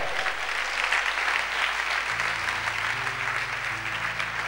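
A church congregation applauding, steady dense clapping sustained throughout, moderately loud, with musical tones underneath.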